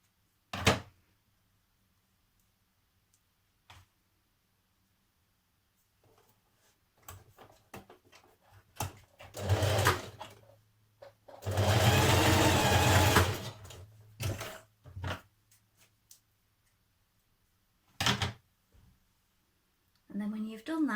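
Sewing machine stitching a cardigan seam, starting and stopping in short bursts before one sustained whirring run, with clicks and handling thumps between and a person speaking intermittently.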